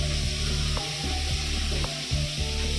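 Vegetables frying in a pan in a home kitchen, a steady close sizzle with faint stirring and scraping, no talking.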